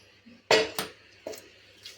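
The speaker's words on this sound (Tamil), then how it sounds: "இப்போ நம்ம இதை மிக்ஸி ஜாரில் மாற்றிக்கலாம்." Soaked dates are transferred into a mixer jar, producing several short clinks and taps of utensil against the jar in an uneven sequence, close and fairly quiet.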